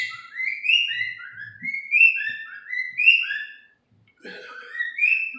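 A songbird whistles short, bright phrases in a quick repeating pattern, pausing briefly before starting again. It sounds clear and fairly close, heard alone with no talking.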